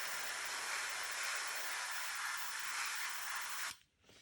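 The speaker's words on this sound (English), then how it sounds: "So we're just spraying the top here." Steady aerosol spray paint hissing continuously for several seconds onto a 1/35 scale model fuel drum, close and fairly loud, then cutting off abruptly near the end.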